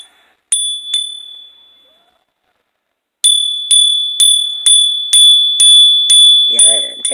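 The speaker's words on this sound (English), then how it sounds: "let me hit the bell." A small bell is struck again and again, first two ringing strikes that fade into silence, then a rapid series of about nine clear, bright strikes, each ringing briefly, close and loud, with no talking.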